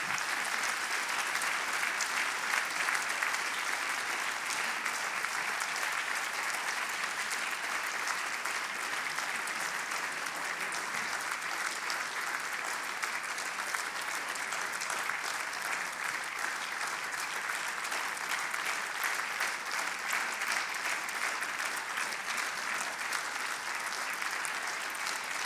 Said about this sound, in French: je propose qu'on applaudisse encore bien fort tous nos primés